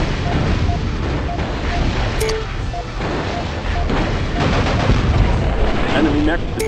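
Dense, continuous battle noise from a MechCommander mech fight, a loud wall of rumbling gunfire and artillery-like blasts with scattered sharp shots, steady throughout, with radio voices faintly mixed in.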